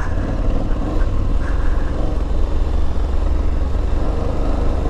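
Aprilia Tuareg 660 motorcycle engine pulling in first gear, a steady close low-pitched drone with broadband rumble that holds even throughout, no talk over it.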